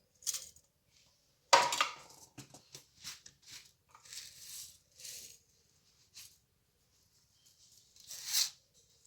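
Fennel seeds poured into a pan for a green chilli pickle: scattered dry patters and rattling bursts, one sharper clatter early on, then light intermittent trickles with quiet gaps between, faint and close.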